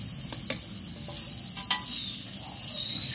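Vegetables sizzle and crackle in a pan over a campfire, a steady frying hiss broken by a couple of sharp clicks of stirring.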